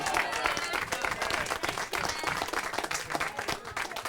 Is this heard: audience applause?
yes